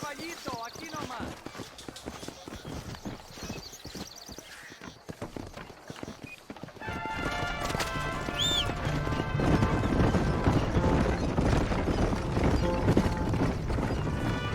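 A horse gallops in the Red Dead Redemption video game, its hooves clip-clopping in a quick, steady beat. A voice is heard over it in the first part, and then music and other game sounds build up and partly cover the hoofbeats.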